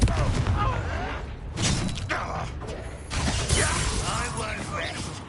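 Confringo blasting spell cast in the Hogwarts Legacy video game, heard as repeated booming magical bursts with crackling, clattering impacts amid ongoing combat effects, with a voice talking over it.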